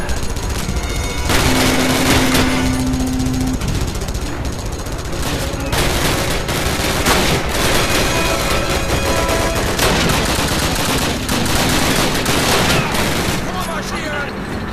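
Dense gunfire from the World War II shooter Call of Duty: United Offensive in a street battle: continuous bursts of automatic weapons and rifle shots, loud and close, with someone talking over the shooting at points.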